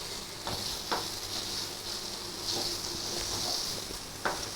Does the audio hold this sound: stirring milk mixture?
yes